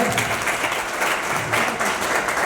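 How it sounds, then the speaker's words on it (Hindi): Loud, dense applause from an audience welcoming a guest at a post office CPR and first aid workshop in Jhalawar, steady clapping from many hands throughout. "जोरदार तालियों से स्वागत।"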